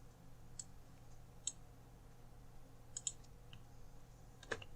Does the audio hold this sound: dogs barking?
no